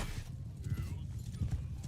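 Horse hooves clip-clop in the medieval battle game Mount & Blade 2 Bannerlord, a steady quick rhythm of close hoofbeats over a rumbling battlefield din.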